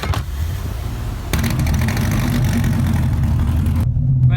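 A 2014 Dodge Viper TA Time Attack race car engine cranks and catches, then revs hard, a loud close rumble that builds and then cuts off abruptly near the end.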